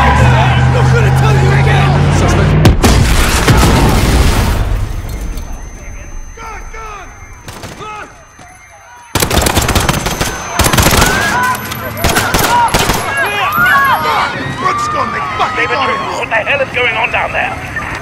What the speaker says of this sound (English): There's been a detonation at Piccadilly Circus. Shots fired.